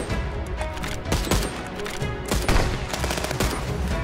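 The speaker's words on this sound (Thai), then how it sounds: "ยิงไปหลายนัดมากอะไม่ล้ม" Rapid rifle fire in the video game Contraband Police, a dense string of loud, close shots with several sharp bursts over constant background game noise.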